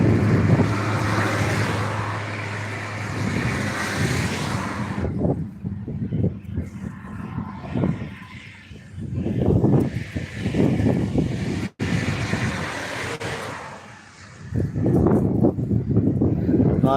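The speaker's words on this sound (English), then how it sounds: "I think it's just the wind because the other one's also acting a little awkward." Heavy wind buffets the microphone outdoors near a bridge, a steady loud rumble that dips briefly and returns, with traffic noise in the background.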